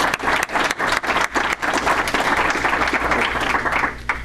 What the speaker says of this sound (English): I think we ought to give Bob and Sue another round of applause.